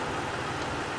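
A Ford BA Falcon engine idles steadily just after an oil and filter change, a continuous close, even hum with a faint rhythmic pulse and no voices.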